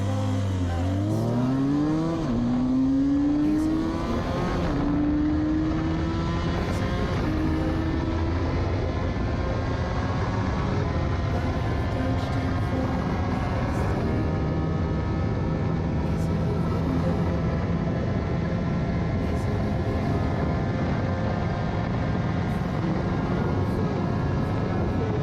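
A Benelli 302R motorcycle's exhaust drones at high revs during a top speed run, rising through gears early then holding a steady loud roar with wind rush throughout.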